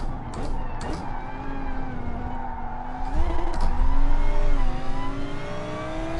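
Gr.3 race car engine in GT Sport on the Dragon Trail circuit, revving hard through second gear with pitch sweeps and brief tire squeal as the car slides, building louder toward the end.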